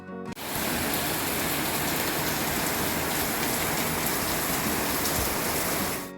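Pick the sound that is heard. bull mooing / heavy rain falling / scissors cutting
heavy rain falling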